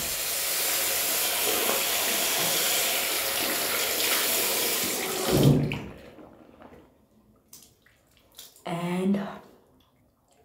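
Water runs steadily from a household tap for several seconds, then stops abruptly; afterward a voice speaks briefly amid a few faint splashes and drips.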